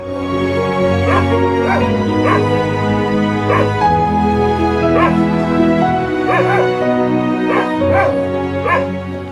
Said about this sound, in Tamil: இது பார்த்தீங்கன்னா ராஜபாளையம் பிரீடு.